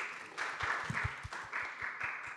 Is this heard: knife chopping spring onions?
no